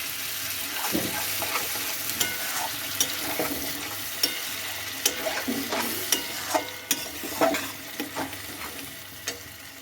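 Chopped tomato is stirred into frying khichuri, a low steady sizzle with a series of spoon knocks and scrapes against the pot, close and moderately quiet with no talk.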